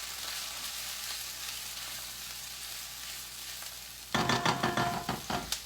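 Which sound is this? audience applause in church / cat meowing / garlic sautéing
garlic sautéing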